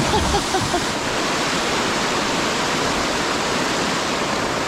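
Rapids on the Devils River rush in a loud, steady broadband roar of churning whitewater heard from a kayak, continuous and close with no distinct breaks.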